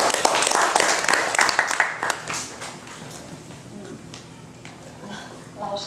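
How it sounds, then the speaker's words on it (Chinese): An audience at a 2012 international conference on the Tibet question welcomes a speaker with a burst of clapping that fades over several seconds, with a voice speaking as it dies away. "我们热烈掌声欢迎。"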